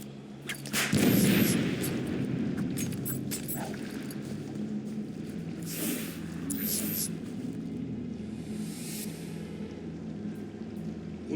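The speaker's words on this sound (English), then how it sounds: "Grenade!" A grenade goes off in the video game Batman Arkham City, one heavy deep blast about a second in that decays into a long low rumble, with further game noises and faint voices afterwards.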